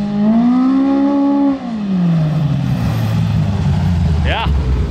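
A Polaris RZR Pro R side-by-side engine revs hard and loud up close, holding high before dropping into a lower rumbling idle, with a short sharp rising burst near the end.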